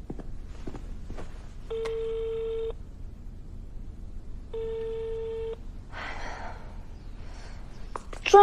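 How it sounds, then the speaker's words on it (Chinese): An unanswered phone call rings out as a ringback tone, two long evenly spaced buzzing tones with a short gap between, quiet room noise and a soft breathy sound and clicks around them. "居然不接我电话。"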